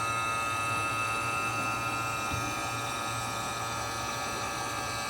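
A vacuum pump evacuates the A/C system of a 2007 Saturn Vue, giving a steady, unbroken electric hum and buzz at low level with no talk.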